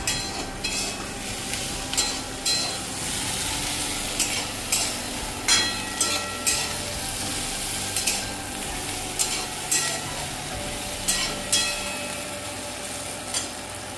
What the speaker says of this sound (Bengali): আগে মাছটা ভেজে নিই।